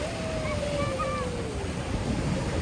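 Ocean waves washing onto a beach, a constant roaring surf wash mixed with wind buffeting the microphone, with faint tonal sounds drifting over it.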